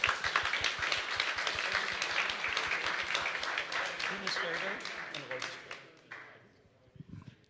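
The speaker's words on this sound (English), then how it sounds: "please give a big applause for Geert-Jan" A conference audience applauds a speaker with brisk, even clapping that holds steady and then thins out and fades near the end, leaving a few scattered claps.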